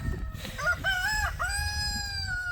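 A rooster among free-range chickens lets out one loud, nearby crow with rising and falling notes, over faint farmyard background noise, without speech.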